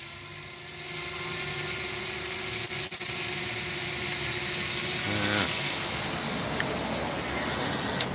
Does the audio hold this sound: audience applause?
no